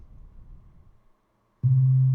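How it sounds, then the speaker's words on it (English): A pure synthesizer sine wave tone from an additive synthesis demonstration sounds alone: a quiet low buzzy texture fades out, a short silence follows, then a loud, steady low sine tone starts abruptly and holds. "it's just a sine wave."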